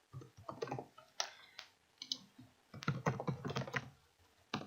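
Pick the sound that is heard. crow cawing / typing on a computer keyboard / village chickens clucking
typing on a computer keyboard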